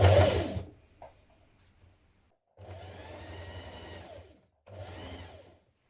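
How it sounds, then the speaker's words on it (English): Sewing machine stitching around the bottom of a sweatshirt to form a drawstring casing, heard in two short close bursts of whirring separated by a brief pause, after a louder opening thump. "you're going to stitch around the bottom to form a casing for your drawstring"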